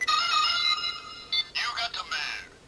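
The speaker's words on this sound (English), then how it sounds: "press enter and you get the ringtone if someone's calling you" A Kamen Rider Faiz Phone X toy plays a bright electronic ringtone melody, loud and close, ending in a few short stuttering tonal bursts, with a voice announcing a call over it.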